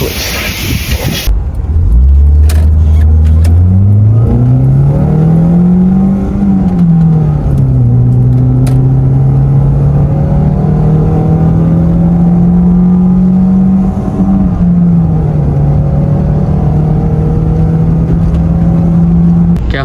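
A Proton Savvy car engine after a gear oil change, heard from inside while driving: a loud, steady drone that rises in pitch, drops at each gear change, then climbs again.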